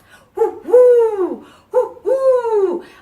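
An owl hooting loudly in a children's song setting, two close, strong hoots, each a short lead-in note followed by a long, falling tone, spaced evenly apart.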